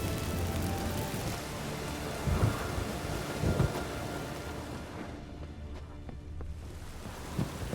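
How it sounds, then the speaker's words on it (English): Heavy rain pours steadily in a thunderstorm in The Witcher 3, with low thunder rumbles swelling around two and three and a half seconds and again near the end, loud and continuous throughout. "A storm, damn it."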